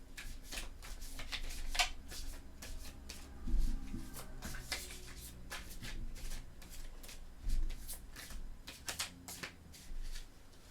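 Tarot cards being shuffled up close, a quiet string of papery slaps, riffles and taps with a few louder thuds from handling on a table, no voices.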